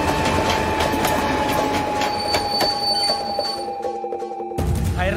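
A local train in Hyderabad runs steadily with a constant rumble and rattle, and metal wheels squeal in long sustained tones. There is no talk, and a brief lull comes near the end.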